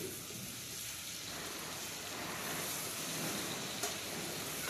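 Tomatoes and coriander are stirred into a pan of pulao vegetables, giving a steady low sizzle with soft scraping throughout and no talking.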